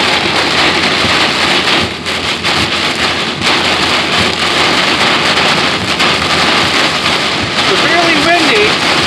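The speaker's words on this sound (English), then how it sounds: "Severely windy, raining like crazy." Heavy rain and strong wind pound down in a dense, continuous roar during a storm, loud and close, with a faint voice briefly underneath.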